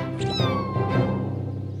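A single drawn-out cat meow, close and clear, rising then falling in pitch over about two seconds with no talking.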